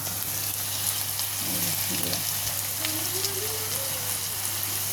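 Cumin and salt fry in soybean oil, giving a steady, even sizzle and crackle that holds unbroken throughout at close range with no talking.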